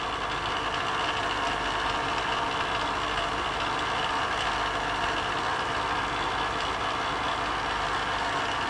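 A grinding machine cuts a precision-ground flatstone with a steady, loud, continuous whirr and hum that runs unbroken throughout, with no talk over it.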